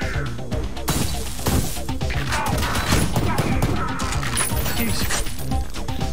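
Bombs exploding in the shooter game Ion Fury, a dense run of loud crashing blasts and impacts packed close together over a busy game soundtrack, with brief voice exclamations.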